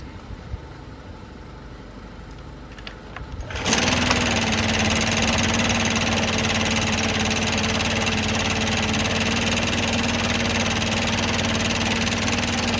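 A Stihl BR600 backpack blower's two-stroke engine, just after a carburetor adjustment, catches at a low rumble, then settles into a steady, loud idle with a constant buzzing drone, close by and with no talking.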